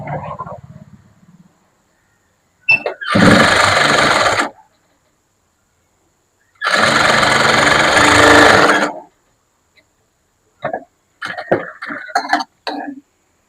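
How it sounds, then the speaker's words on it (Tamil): A sewing machine stitches a blouse in two loud, steady bursts of whirring close by, separated by silence, followed by a few brief soft knocks and rustles. "இனி தையல் போட்டுக்கலாம்."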